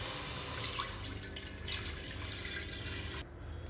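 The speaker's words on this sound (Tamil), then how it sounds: "அடுத்து பாலை ஊற்றணும்" Milk poured into a kadai pan on a gas stove while making mango basundi, a steady continuous liquid pour with a soft splashing hiss that runs throughout and drops off slightly near the end.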